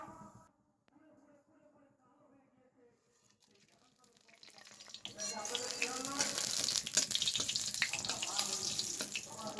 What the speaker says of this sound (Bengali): তেলের মধ্যে আমি গোটা ফোড়ন দিয়ে দিচ্ছি, যার মধ্যে রয়েছে এলাচ, লবঙ্গ, দারচিনি, তেজপাতা, শুকনো লঙ্কা।